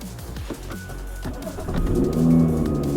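A BMW F Series car engine cranks and fires up after a tune flash, then settles into a steady, rumbling idle close by.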